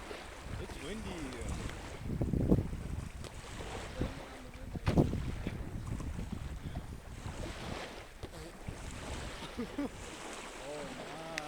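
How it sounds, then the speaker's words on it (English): Strong wind gusts buffet the microphone on a beach, a rough roaring rush that swells in bursts, with faint voices underneath. "It's windy."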